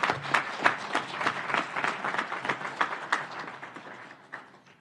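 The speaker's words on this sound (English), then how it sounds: "we should give a round of applause to the United Nations" Steady crowd applause at a United Nations drug-free world conference, many hands clapping at once, dense and sustained, slowly fading toward the end.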